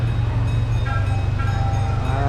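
A Castle Park miniature train, a 1980s model, rumbles along the track on a ride, with a loud, steady low-pitched chug and rhythmic clatter heard from on board, with a faint tonal whine above it.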